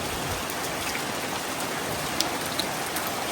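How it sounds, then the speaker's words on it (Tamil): Heavy rain pours steadily onto a rooftop garden, a dense, close, unbroken hiss with scattered louder drops and drips, and no voices. "தனி மூலை பக்கம் இருந்து நல்லா மழை பெய்யுது"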